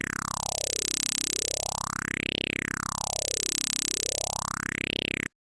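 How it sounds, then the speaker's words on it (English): A dense train of synthetic impulses rebuilt from chirps passed through all-pass filters, a steady buzzing pulse whose tone sweeps up and down twice in slow triangular glides, loud and continuous with no voices. "this will give us a series of impulses,"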